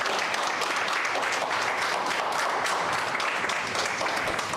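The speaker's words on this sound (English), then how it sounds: "give a big round of applause once again to our distinguished speakers" Continuous, dense applause from participants at a research seminar for the distinguished speakers, loud and even throughout with no pauses.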